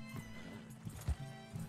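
Horse in the Red Dead Redemption 2 video game, with a snorting whinny and a few muffled hoof clops on a shore amid low rumbling game ambience, close and moderately loud.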